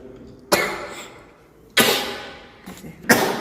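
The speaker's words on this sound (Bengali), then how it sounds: "ছোটর হাঁচি কাশি হচ্ছে।" A child gives three or four sharp, separate coughs at moderate distance, each a short burst fading quickly, with quiet room noise between them.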